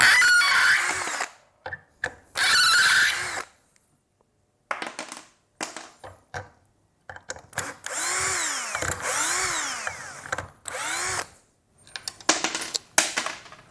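Tekiro CD-HD2047 12V cordless hammer drill on speed 2, driving a 5 cm screw: a few bursts of whining motor with rising and falling pitch, separated by pauses, close and loud with no talk.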